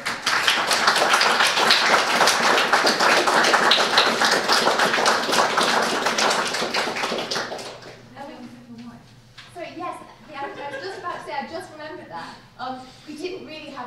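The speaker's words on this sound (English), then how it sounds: "a final round of applause" An audience gives a final round of dense, steady applause for about seven seconds; it then fades out and a person begins talking.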